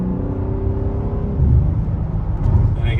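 A 2022 BMW M3 Competition xDrive accelerating from inside the cabin, a low engine drone and rumble that swells twice as the revs build, with no speech.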